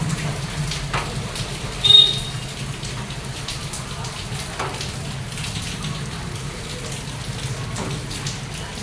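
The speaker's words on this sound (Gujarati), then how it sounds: "ઝરમર વરસાદ ભાઈ આવે જ છે." Soft, steady rain patter fills the background with a faint continuous hiss, broken by a few brief louder taps.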